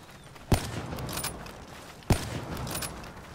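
Two sharp gunshots, about 1.6 seconds apart, crack out while shooting zombies in a video game, each standing out clearly over a steady background of game noise.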